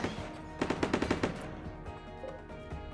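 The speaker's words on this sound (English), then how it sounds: "I think the autocannon is just deleting these bugs." Autocannon turret in the video game RimWorld fires a rapid burst of about ten heavy shots in quick rhythm, followed by scattered distant impacts and quieter reports.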